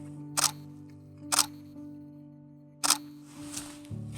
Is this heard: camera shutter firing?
yes